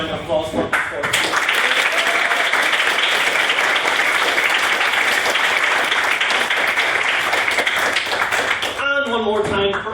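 Sustained applause from an evening debate audience for its speakers, dense and loud for most of the stretch, fading near the end as a voice resumes.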